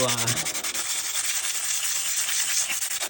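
Steady dry rubbing of a Moster 185 engine's seal surface being burnished by hand, a close, continuous scraping friction with a brief low tone at the start.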